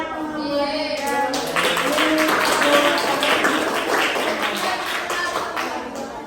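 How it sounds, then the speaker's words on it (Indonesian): Students clapping in a classroom, a steady dense patter of hand claps lasting several seconds, with children's voices mixed in underneath. "Silakan beri tepuk tangan ya teman-teman."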